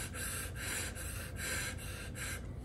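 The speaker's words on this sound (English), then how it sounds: "I am going to exhale, right? I'm going to make my lungs small." Repeated rhythmic breaths through scuba gear, a sequence of about five hissing pulses as a diver exhales to empty the lungs, soft and close with no talking.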